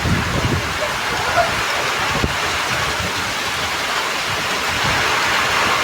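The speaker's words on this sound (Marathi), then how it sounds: "सकाळी पाऊस पडायला सुरुवात झाली आहे." Morning rain falls steadily on a Konkan village during a storm, a broad continuous wash of drops with a faint thud partway through.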